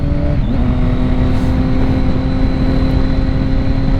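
A sport motorcycle engine, a 2006 Triumph Daytona 675 or 2007 Yamaha YZF R6 sportbike, drones loud and close with a steady high whine, a brief dip near the start as the throttle drops for a clutchless upshift before the pitch settles again.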